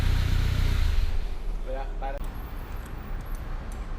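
A 1998 Audi A4 fitted with an aftermarket exhaust rumbles at idle, a deep engine drone that eases off partway through, with brief faint tones above it.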